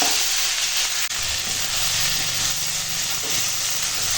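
Spices, turmeric, chili powder and salt, sizzle and fry in hot oil in a pan, a continuous close hiss with faint scraping as the mixture is stirred, broken by one brief dip in the sound.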